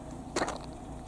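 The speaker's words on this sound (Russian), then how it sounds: "Поставил на ручник" A car's handbrake is pulled on while stopped on a hill at a driving-school track, giving one short, sharp mechanical ratchet-like click amid quiet background noise.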